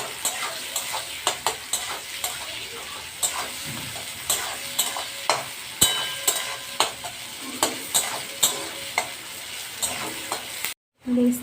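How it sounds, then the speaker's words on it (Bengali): Onions frying in oil for biryani beresta, a continuous crackling sizzle punctuated by regular scraping stirs, close and fairly loud, ending in a brief silence and one last clatter. "ওই তেলেই আমি বেরেস্তাটা করে নেব।"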